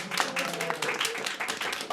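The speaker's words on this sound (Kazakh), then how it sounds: "тамаша шапалақтарыңыз." A studio audience on a football talk show gives a brief burst of dense clapping, with a presenter's voice heard over it.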